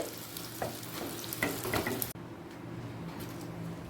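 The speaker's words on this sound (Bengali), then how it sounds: "আলুগুলো লাল করে ভাজা হয়ে গেছে এবার অন্য পাত্রে তুলে রাখছি" Potatoes fry red in oil in a wok with a continuous crackling sizzle and occasional scraping of a spatula, the sound briefly cut and resuming quieter afterward.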